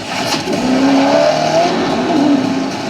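A supercar's twin-turbocharged V8 engine pulls hard under acceleration, a loud, sustained roar with rising pitch sweeps as it climbs through the revs, close and alone without talk.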